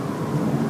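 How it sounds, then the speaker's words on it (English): Deep, steady rumbling roar of planes flying overhead in gusty, drizzly weather ahead of Hurricane Sandy, broad and continuous throughout with no voices. "planes are still flying, as you can hear by the roar of the planes"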